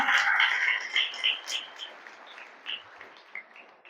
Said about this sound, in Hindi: तो उन सब डॉक्टर्स के लिए एक जोरदार तालियां।